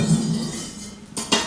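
A bowl and cutlery clink together in a kitchen during preparation of a vegan ginger recipe, giving two quick, bright knocks close by near the end, with no one talking.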